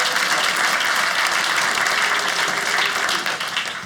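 A comedy special's audience breaks into a short burst of dense, loud applause that holds steady before starting to fade out at the end.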